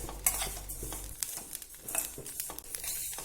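Rice being stirred and dry-roasted over low heat in a heavy-bottomed pan, with a spoon scraping in irregular strokes and light clinks against the metal. The sound comes up close and moderately quiet, and no one speaks.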